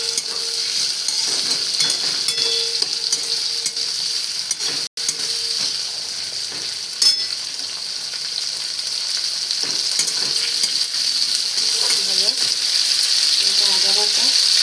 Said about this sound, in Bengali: এগুলো ভাজা ভাজা হচ্ছে।